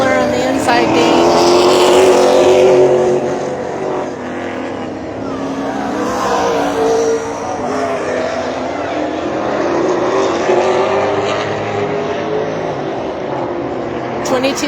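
Late model race cars roar around the oval at Shasta Speedway in a dense, continuous engine drone that swells and recedes as the pack passes, with crowd and commentary noise blended into the din.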